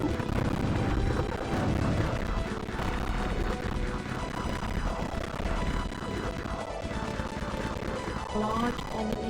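Enemy ship firing projectiles in the shoot-'em-up game Tyrian 2000: dense, continuous barrage of booming blasts and rapid shots layered over driving game music, loud throughout with no pause.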